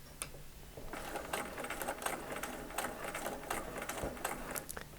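A sewing machine stitches quilt fabric for an eight-point star block, giving a steady close mechanical whir with rapid ticking needle strokes that run continuously for several seconds without talk.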